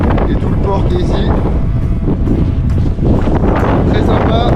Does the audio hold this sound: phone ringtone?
no